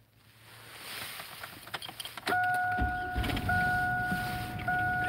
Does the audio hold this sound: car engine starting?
yes